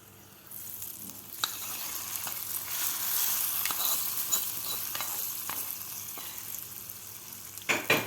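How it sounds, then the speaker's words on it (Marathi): Hot tadka tempering sizzles loudly as it is poured over curd rice, a steady crackling frying hiss with scattered pops that swells and then fades a little, with no voices. "आता हा तडका आपल्याला भातावर घालून घ्यायचा आहे."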